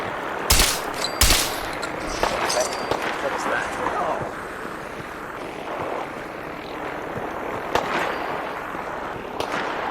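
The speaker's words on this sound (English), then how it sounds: "Who's shooting at me?" Gunfire in Fallout 4 VR: two sharp, loud shots open the scene, followed by scattered quieter bursts and a rumbling battle backdrop, with talk over parts of it.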